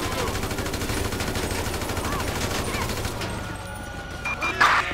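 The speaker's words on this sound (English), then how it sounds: "Shots fired at an officer." Gunfire in the game Grand Theft Auto V, rapid repeated shots like a fusillade with a steady rattling rhythm, loud at first then thinning out, with a police radio voice talking.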